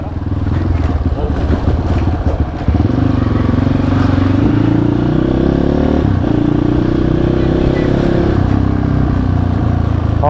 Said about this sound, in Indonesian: Ngapain tuh orang ngegeber ya?